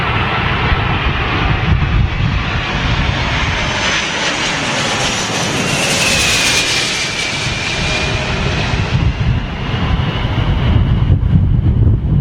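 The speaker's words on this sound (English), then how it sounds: "Here we go, Boeing 747" A Boeing 747 comes in to land at London Heathrow in strong stormy wind, its engines roaring loud and steady throughout, with a whining tone rising and falling over gusty wind buffeting the microphone.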